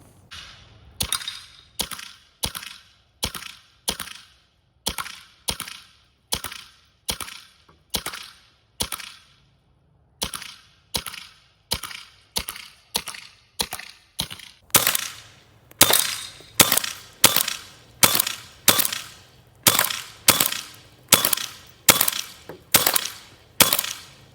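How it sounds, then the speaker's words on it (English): DI-68 high-power airgun of 50+ joules firing semi-auto at coconuts: dozens of sharp, close cracks in a steady, rapid rhythm, with a short pause partway and louder, more regular shots in the second half. "I'll shoot them on this side right here and see if semi-auto does more damage than full auto"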